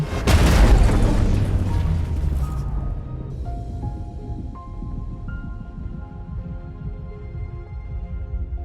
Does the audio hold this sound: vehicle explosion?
yes